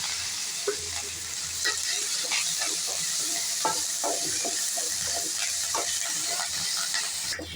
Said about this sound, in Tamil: இதெல்லாம் பூண்டு, சின்ன வெங்காயம் எல்லாம் நல்லா வதங்கிச்சுங்க.